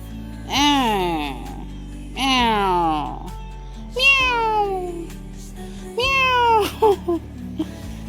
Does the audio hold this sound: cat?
yes